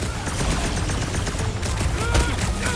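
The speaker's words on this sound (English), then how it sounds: "Those Nova Core cannons will take your head off!" Heavy gunfire from Nova Corps cannons in the Guardians of the Galaxy video game, a dense continuous barrage of loud blasts running the whole time with no gaps.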